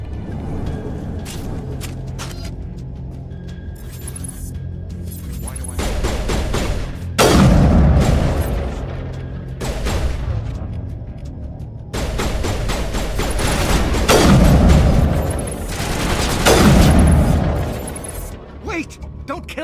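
Gunfire rattles through a firefight in the Mass Effect video game, with dense bursts of shots and booming impacts that swell and fade in waves over a low mechanical rumble.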